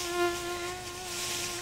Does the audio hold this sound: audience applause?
no